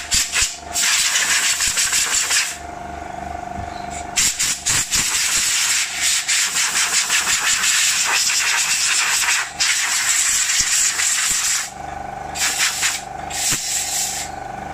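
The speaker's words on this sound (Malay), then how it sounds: "Contact cleaner, electronic contact cleaner." Electronic contact cleaner sprayed in repeated loud hissing bursts, several seconds each with short gaps, onto the motor and armature contacts of an Electrolux instant water heater pump, heard close with no talk.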